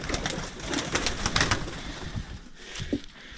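Pigeons on a homestead coo in soft repeated throaty calls, close and fairly loud, with a steady background hum and no talk.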